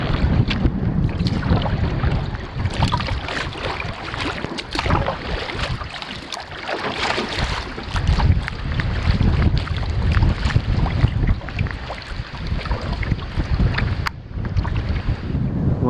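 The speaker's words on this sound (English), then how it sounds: "It is windy." Gusty wind on a wilderness lake during a solo canoe trip roars steadily and buffets the microphone, with splashing water and canoe noises underneath throughout. The sound is close and loud, and no one speaks.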